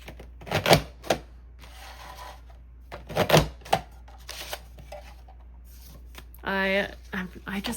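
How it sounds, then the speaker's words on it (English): Handheld paper punch working through paper, sharp crunching clacks in two close bursts with rustling of the sheets between, followed by someone talking near the end. "I can't believe how much I love this paper punch."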